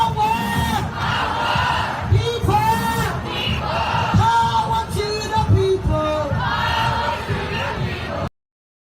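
A large crowd at a protest in Parliament Square, London, chanting and shouting together in loud rising and falling waves, with a few sharper yells standing out.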